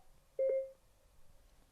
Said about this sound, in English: Tap the intercom and phone buttons together and wait for your phone to beep.